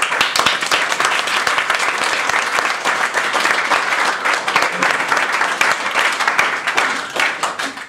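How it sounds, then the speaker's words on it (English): A room full of people claps loudly and steadily for an under-15 football squad at its end-of-season presentation night, dense applause sustained for several seconds before tapering at the end. "Round of applause for everyone."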